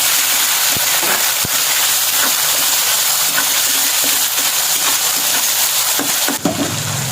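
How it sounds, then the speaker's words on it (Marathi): Tomato and vegetables sautéing in a pan for a Maharashtrian Bhogi bhaji, a steady close sizzle with faint watery hiss and a few soft scraping knocks, continuous and fairly loud throughout. "चांगला मग होईपर्यंत परतून घ्यायचं"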